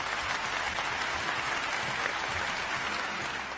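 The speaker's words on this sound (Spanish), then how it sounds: "¡Un aplauso!" Applause from an audience following a teacher's remarks on a Peruvian secondary-school TV lesson, a steady wash of clapping lasting a few seconds and fading slightly at the end.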